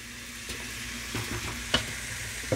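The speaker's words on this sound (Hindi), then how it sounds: "आधी जो दाल है ना इसको मैं मैश करूँगी" Cooked toor dal for sambar is mashed in a pot, giving soft wet stirring and scraping with a few light taps, quiet and close with no talk.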